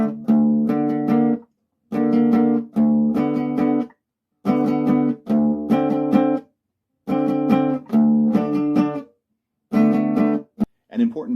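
Electric guitar in DADGAD tuning plays a riff as a repeating loop, with strong sustained chords in regular phrases separated by short pauses, loud and close with no talking.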